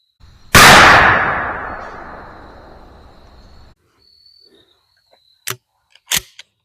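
A 12-gauge shotgun loaded with 2.75-inch Remington #00 buckshot fires one loud, sharp blast that decays over about three seconds outdoors, followed by a few faint clicks and two brief metallic clacks of the action.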